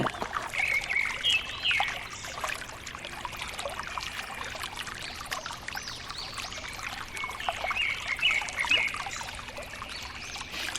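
At Talakona waterfall, water pours down with force in a steady, dense roar and splash. Bright bird chirps come and go above it, and no one speaks.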